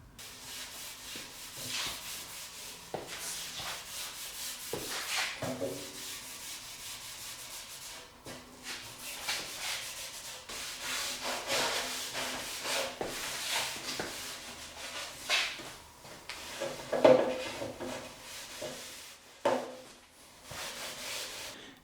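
Hand rubbing finish into poplar wood slats for a wall and ceiling, soft irregular scrubbing strokes close by, rising and falling in bursts with short pauses.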